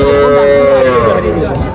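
A single loud, close cow moo at a cattle market, a long low bellow that slides down in pitch and fades out.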